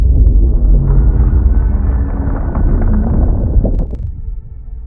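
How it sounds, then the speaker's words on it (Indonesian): A big explosion in the film Underwater: a loud, deep, broad roar rumbles steadily for about four seconds, then drops away abruptly and quickly thins out. "tidak lama kemudian sebuah ledakan besar pun terjadi"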